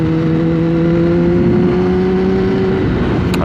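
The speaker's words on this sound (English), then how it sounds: "The bike sounds amazing." Kawasaki ZX-10R motorcycle engine running close by with a loud, steady tone held at a constant pitch, sustained for the whole few seconds with no talking.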